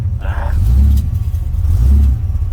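A car engine with a straight exhaust revs in rumbling surges, two swells of deep throaty roar rising and falling close by, with voices talking over it.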